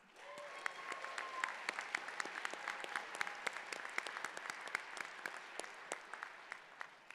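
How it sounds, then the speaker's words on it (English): Audience applause at a College of Engineering winter convocation, a steady spread of many hands clapping with crisp individual claps popping out, continuing evenly for several seconds from a moderate distance. "One more round of applause for everybody."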